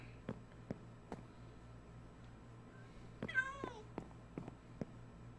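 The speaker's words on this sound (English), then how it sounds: "Another cat." A cat in the Minecraft video game gives one short, drawn-out meow at moderate distance, amid soft repeated clicks and a low steady hum.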